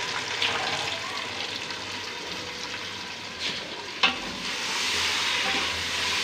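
Over half a kilo of chicken frying in a pan for a kadu gosht dish, a continuous close sizzle with occasional stirring clinks and scrapes, no speech.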